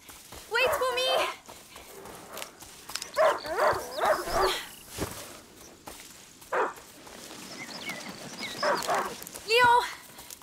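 A hunting dog barks and yelps in A Plague Tale: Innocence, several short bursts spread across the scene with hoof-like clopping between them, fairly close and mixed with other game sounds.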